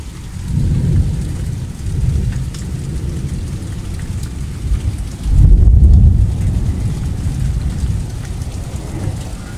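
Heavy rain pours steadily while deep rolls of thunder rumble through, with a stronger thunderclap swelling midway; loud and close, no voices.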